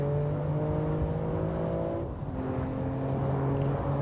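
BMW G87 M2 driving on the Nordschleife, its engine holding a steady loud drone with harmonic whine, a brief dip near the middle as the revs change, then pulling on again.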